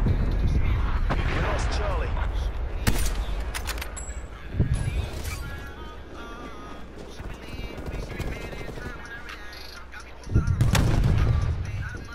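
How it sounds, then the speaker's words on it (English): Artillery fire and explosions in the Call of Duty Cold War video game, a series of sharp booms and heavy blasts with rumbling impacts, mixed with gunfire and game sounds while a player talks over it. "Neckle, incoming artillery"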